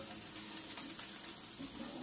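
Food seasoned with black pepper sizzles steadily in a pan while being stirred, a continuous close frying hiss with faint scraping and no voices.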